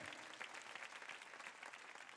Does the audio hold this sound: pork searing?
no